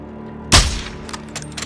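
A single sharp, loud gunshot cracks out after a brief quiet stretch, followed by fainter clicks and small bursts, like game gunfire, in Call of Duty: Modern Warfare II.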